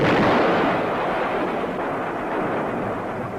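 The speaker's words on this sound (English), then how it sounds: "The F-100 makes a 4-can napalm drop against enemy positions, tanks, or both." An F-100 jet's four-can napalm drop and rocket fire on enemy positions gives a loud, sustained roaring blast, strongest at first and then a long rolling rumble.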